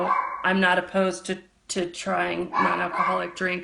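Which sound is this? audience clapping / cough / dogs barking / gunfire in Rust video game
dogs barking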